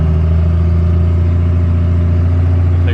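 First-generation Cummins diesel truck engine with a 47RE automatic transmission pulling through a roundabout, a loud steady drone with strong low harmonics that holds close and even under moderate throttle.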